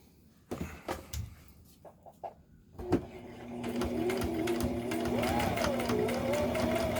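A few scattered clicks and handling taps, then a sewing machine starts stitching a backpack seam and runs with a steady, close mechanical whir under a faint voice.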